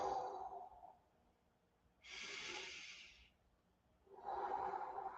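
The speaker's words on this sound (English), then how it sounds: "take a deep breath in" A person breathes deeply and slowly: a soft sighing exhale, a sharper hissing inhale, then another long exhale, close-miked and quiet with brief pauses.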